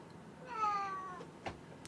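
A house cat gives a single clear, drawn-out meow at moderate distance, followed by a faint click, with steady low room noise and no talk.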